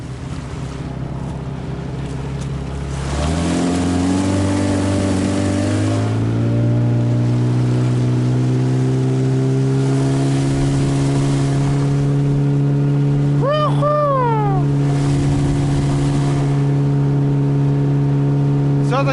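Motorboat engine on a river at minus five degrees: the motor starts quietly, revs up, then settles into a loud, steady drone with wind and water rush, while a brief rising whine sweeps through near the end.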